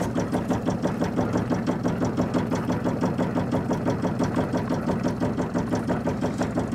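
Diesel engine of a sailboat on a cold morning, idling with a steady, rapid mechanical chatter that stays loud and even throughout, with no voices.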